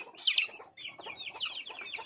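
One-month-old desi chicks chirping up close: a loud burst of shrill, high peeps, then a steady run of quick overlapping chirps with no voices.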